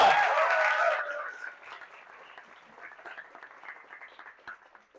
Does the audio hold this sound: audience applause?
yes